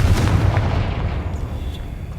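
A loud Confringo blasting spell explosion in Hogwarts Legacy, a heavy booming burst at the start that trails off into a rumbling decay.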